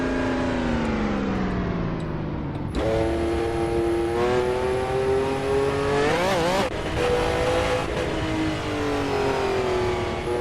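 A race car lapping Brands Hatch in Assetto Corsa, its engine loud and close throughout, revving steadily upward through the gears with sharp shifts and dips around braking, a brief tire squeal.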